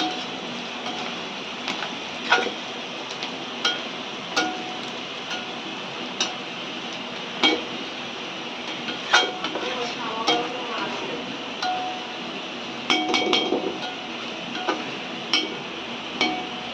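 A utensil stirs banana blossom fry with spices in a pan, giving irregular light metallic taps and clinks against the pan over a steady sizzle, with faint talk in the background.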